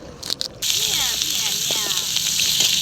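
Steady hissing sizzle of spices frying in hot oil in a wok for chicken rassa, continuous and fairly loud, with a few clatters and faint sounds at the start.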